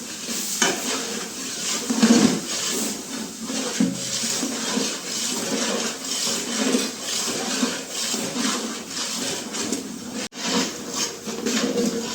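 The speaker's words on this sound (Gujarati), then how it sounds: "ચાલો અહીંયા હિંગ, આદુ મરચાં પણ આપણે નાખી દીધા છે. મિક્સ કરશું એને આપણે." Asafoetida, ginger and chilies being stirred in a large pan of pav bhaji for a hundred people: a continuous sizzle with repeated scraping strokes of a utensil, close and fairly loud.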